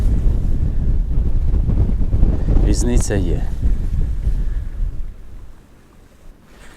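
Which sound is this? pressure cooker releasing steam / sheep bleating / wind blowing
wind blowing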